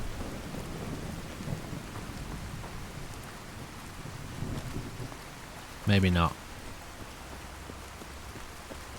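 A steady hiss of rain falls through a thunderstorm in a gritty Fallout 4 modlist, with a sharp, loud thunder crack midway and a voice speaking briefly over the downpour.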